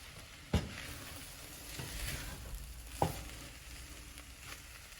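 Mexican rice mixture is stirred in a frying pan under a soft continuous sizzle, with two sharp scraping knocks of the utensil against the pan.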